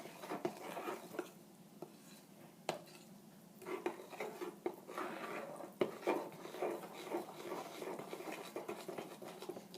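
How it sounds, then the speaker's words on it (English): Batter for a Pepsi cake is stirred in a bowl, giving a steady scraping, patting mix with occasional sharp clinks of the utensil against the bowl, close and moderately quiet with no talking. "You want to mix it up pretty well. Get out all the little lumps."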